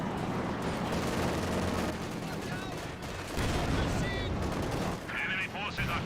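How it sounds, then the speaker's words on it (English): Gunfire from a Company of Heroes 2 battle, with a Zis gun and infantry squads fighting, sounds as dense, continuous shooting and explosions that stay loud throughout, with a voice talking over the din. "This gun fires away, rolls a miss or bounce, wipes out the conscript squad there, advancing."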